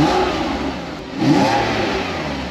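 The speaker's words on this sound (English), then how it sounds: "let me just rev it a little bit so you can hear what it sounds like" A Porsche Boxster S 987.2 flat-six revved while stationary, rising in a brief throttle blip from idle then settling, close and loud with no talk.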